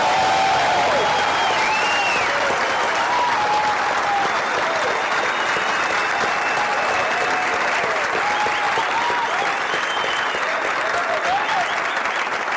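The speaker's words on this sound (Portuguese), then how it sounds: "Quero dar uma salva de palmas para vocês aí." Sustained applause from an auditorium audience at a live motivational event in Lisbon fills the whole stretch, dense and steady with a few faint voices and whistles mixed in.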